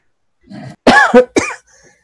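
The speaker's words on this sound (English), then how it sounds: "it just made me cough trying to vape that low" A close, harsh cough after vaping at low wattage, two or three rough bursts in quick succession with a short wheezy breath before them.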